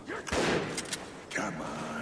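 A few bursts of gunfire from the video game Spec Ops: The Line, loud and close, mixed with game voices talking over the shots.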